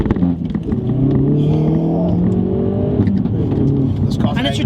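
A Hyundai i30 N hot hatch accelerates hard, its engine note loud and steady with rising harmonics, sustained close by throughout.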